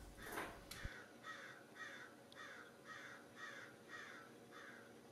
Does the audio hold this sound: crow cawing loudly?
yes